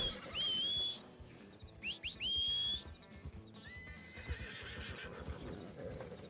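A horse whinnies loudly twice in close succession, with a shorter neigh after, over steady clip-clopping hooves and a busy soundtrack from the video game Red Dead Redemption 2.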